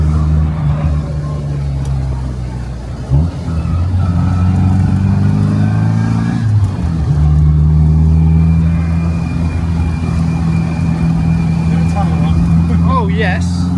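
A Gen 5 Mini accelerates hard with a steady engine drone and whining gear noise, rising through revs with a brief lift and gear change, while someone talks excitedly over it from inside the car.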